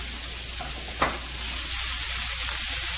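Chopped green pepper and leeks sizzle steadily in a hot pan for a black bean and tomato pasta, an even close-up frying hiss with a brief stir-like burst near the start.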